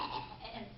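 A single short, throaty cough-like burst made by a voice imitating a cough.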